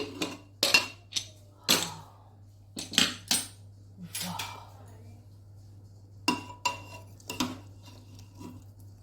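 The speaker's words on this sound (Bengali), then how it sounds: "এবার প্রেসার কুকারটা খুলছি।" A metal pressure cooker used for cooking mutton is opened: a series of sharp metallic clanks and clinks, some bursts close together, with quieter gaps and a low steady hum underneath.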